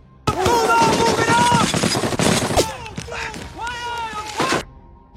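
Gunfire in a World War II film battle as soldiers run under a hail of bullets to seize enemy cannons: dense bursts of machine-gun and rifle fire with voices rising over the shots, then a shorter second burst.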